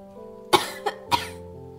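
Three short coughs close by, the first sharpest, spaced about a third of a second apart against a quiet background.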